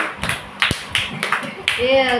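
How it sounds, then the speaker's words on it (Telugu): Children at a church children's ministry class clap in a few short, uneven bursts of sharp claps, heard close amid ongoing talking. "జ్యోతి క్లాప్స్ కొట్టండి,"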